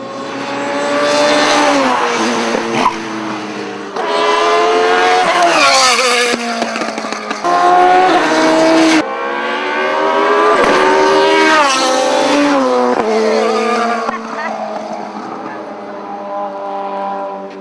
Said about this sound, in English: we're cutting away to show you Dennis coming around the track.